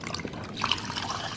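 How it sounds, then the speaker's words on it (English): Broth pours into a pot of tortilla-less chicken soup, a brief, close gurgle and splash of liquid with a few drips. "the last thing is just to pour in your broth"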